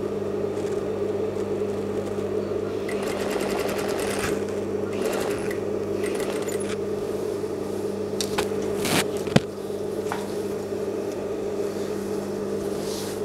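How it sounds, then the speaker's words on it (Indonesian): Sewing machine stitching piping onto the collar of an A-line robe, a steady close motor whir that runs throughout with a few clicks and knocks, no talk. "Okey, kita akan jahit sampai habis lah."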